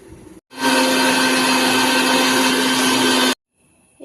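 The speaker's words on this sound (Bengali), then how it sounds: "সবকিছু মিক্সিং জারে নিয়ে নেওয়ার পর এবার আমরা এটা পেস্ট করব।" A kitchen mixer grinder pulverising green chilli, ginger, onion and spices into paste, one loud steady motor whir lasting about three seconds, then cutting off abruptly into near silence.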